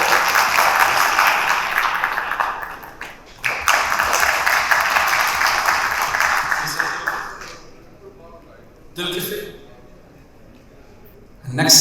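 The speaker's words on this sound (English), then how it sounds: "Let's give him a big round of applause." Sustained applause from the audience at a business conference, a dense broad wash lasting about seven seconds before tapering off, followed by a brief later burst.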